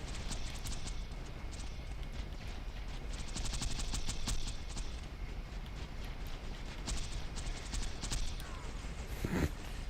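Rapid automatic turret gunfire from the video game Borderlands 2, a dense, steady rattle of shots that carries on for about ten seconds and stays fairly loud throughout. No talking is heard.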